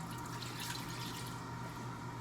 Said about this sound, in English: Along with some cold water